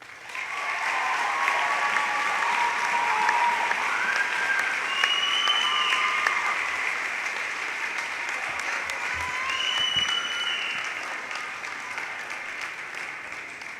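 Sustained crowd applause at a Winooski High School 2017 graduation ceremony, welcoming the second valedictorian to the stage; steady, dense clapping from a large audience filling the hall for about fourteen seconds, with scattered cheers and whoops on top.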